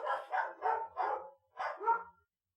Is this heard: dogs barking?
yes